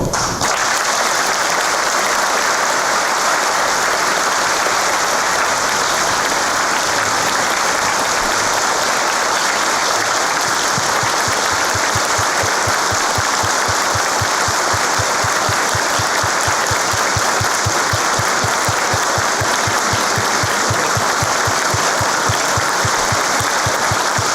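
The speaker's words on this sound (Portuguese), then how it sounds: "uma calorosa salva de palmas para o nosso general" Sustained applause from a large crowd at a Masonic lecture, dense steady clapping filling the whole stretch without a break.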